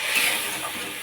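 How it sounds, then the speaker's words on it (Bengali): Water hits a hot pan of taro stolons with shrimp, giving a brief, steady sizzling hiss at close range. "সামান্য একটু জল দিয়ে দেবো"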